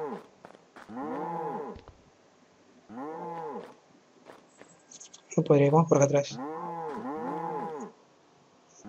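Cows moo repeatedly in the WorldCraft video game, several long, pitched lowing calls in a row with short gaps, one louder crunchy burst in the middle, while someone speaks Spanish briefly at the start.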